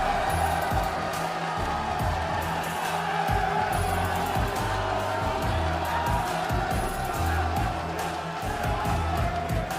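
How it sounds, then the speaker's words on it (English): A large crowd at a Call of Duty esports major cheers and shouts continuously as a team takes the stage, a dense roar of voices with whoops rising above it throughout. "The crowd is loving them."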